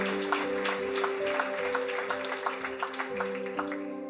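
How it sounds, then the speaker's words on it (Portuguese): A church congregation claps in praise during a sermon, with scattered, uneven hand claps over a sustained organ or keyboard chord, moderately close. "pode aplaudir o Senhor Jesus por isso"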